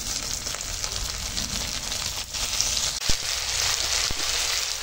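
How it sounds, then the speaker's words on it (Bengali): Green chilli and chopped onion frying together in oil in a pan, giving a steady, moderately quiet sizzle with occasional stirring scrapes and brief clicks, no voices. "কাঁচা লঙ্কা, পেঁয়াজ একসঙ্গে ভেজে নেবো"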